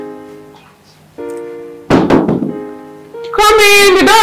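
Knocks on a door in a Nigerian drama scene: a few sharp, close thumps land mid-clip amid background music and room sound, followed by a brighter tonal passage.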